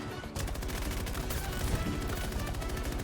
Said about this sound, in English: I'm just blindly firing into the smoke and getting kills.